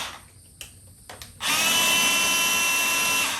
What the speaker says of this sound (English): Let's see what just drill does.